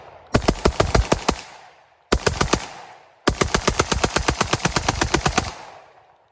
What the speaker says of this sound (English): So last one of a mag dump.